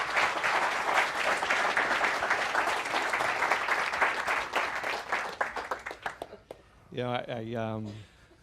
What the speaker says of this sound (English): how about giving everybody a round of applause for that?